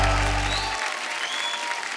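Audience applause greeting a singer as he is welcomed on stage at a music show, a steady wash of clapping that starts under a fading low musical tone and carries on alone.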